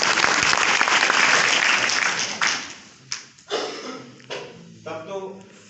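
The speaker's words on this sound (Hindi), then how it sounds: "एक बार जोरदार ताली बजा लीजिए" Audience applause at a live event: a loud, dense burst of clapping from a crowd lasts about two seconds, then thins out into scattered claps and a few short sounds.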